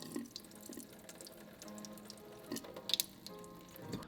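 Water runs and splashes onto a sneaker treated with Crep Protect, a soft tap-like trickle with scattered drips and a brief sharper spatter near the end, close and quiet.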